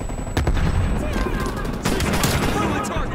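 Rapid bursts of shotgun fire in Call of Duty Cold War, several loud sharp blasts in quick succession with a voice talking briefly amid the gunfire.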